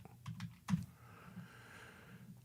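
Typing on a computer keyboard, a quick burst of close key clicks followed by a few lighter taps in a quiet room.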